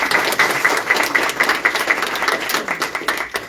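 An audience at a school district's opening-day event for teachers applauds with dense, steady clapping that holds for the whole stretch, fairly loud and close, with no voices over it.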